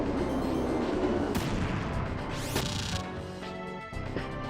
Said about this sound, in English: Let me start shooting these turrets down.